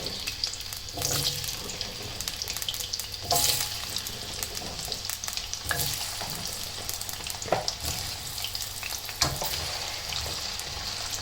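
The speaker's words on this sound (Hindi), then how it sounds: "आलू और बैंगन दोनों को मैं इसी तरह इस कुकिंग ऑयल में फ्राई करती हूँ" Potato and eggplant pieces fry in hot cooking oil for an aloo baingan dish, giving a steady, close sizzle with small crackling pops throughout and no talking.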